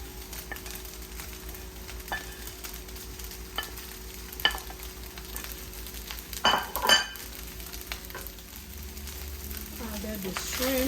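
Shrimp for fried rice sizzle quietly in a pan with cilantro and green onion, under scraping and stirring and a few clinks of a utensil against metal, close but soft.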